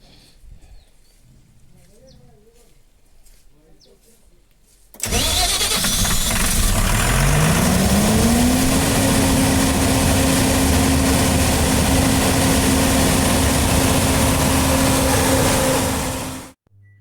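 A diesel generator set cranks and fires, then its engine revs up and settles into a loud, steady running drone that holds for about eleven seconds before cutting off, with faint voices before the start.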